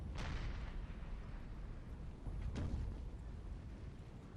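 Artillery fire in a Napoleonic battle of Napoleon Total War, shelling a house, heard as a steady rumble with two sharp booming shots near the start and a little past the middle, no voices over it.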